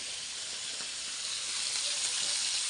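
Fish coated in masala sizzles steadily in hot oil, a loud, continuous hiss and crackle close up, with no voices.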